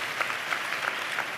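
A church congregation claps during a pastor's sermon, producing a soft, fairly even patter of many hands with faint rhythmic pulses, sounding somewhat distant and low in level.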